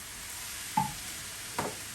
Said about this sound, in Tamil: போட்டு அப்படியே கிண்டிகிட்டே இருப்போம்